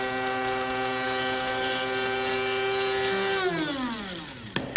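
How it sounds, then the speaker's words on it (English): Electric spice grinder powdering roasted cumin seeds, a loud, steady whirring hum that holds level and then winds down in pitch, ending with a couple of clicks. "Let's grind these up for a few seconds until they're nicely powdered."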